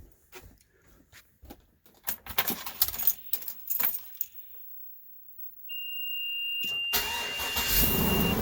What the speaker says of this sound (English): let's start the engine and see how many amps I'll throw in there